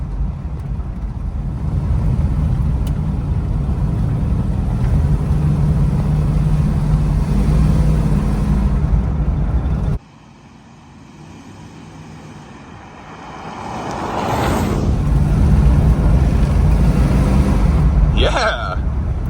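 A 1971 Dodge Super Bee's engine drones loudly on its first road test in 35 years, steady at first, then drops off and climbs back up as it pulls away again, with wind rush and road noise.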